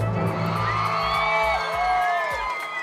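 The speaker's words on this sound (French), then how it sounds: "il faudrait des applaudissements aussi" Audience whooping and cheering at a student podcast event as performers enter the stage, lively shouts and high whistles over a crowd, fairly close and continuous.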